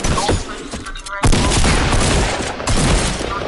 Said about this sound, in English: Oh my, he's shooting me. Oh, he's shooting you. Hunting rifle!